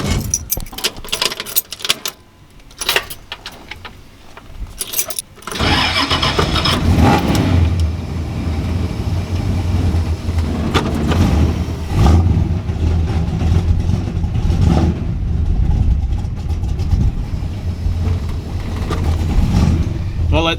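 A Ford F-350 pickup truck is started after some keys and handling clatter, then its engine settles into a loud, steady rumbling idle as it warms up, heard close.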